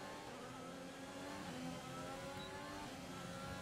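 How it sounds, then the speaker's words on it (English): Renault-engined Formula 1 car accelerating in the racing game F1 2020, a steady, loud engine drone with rising harmonic whine that holds continuously without pauses. "This Renault engine is not powerful enough for the follows"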